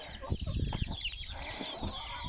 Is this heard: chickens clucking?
yes